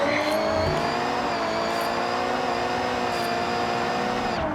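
A BMW M1 in the Forza Horizon racing game drifts with a steady, loud engine whine and continuous tire squeal, sustained throughout with no talk.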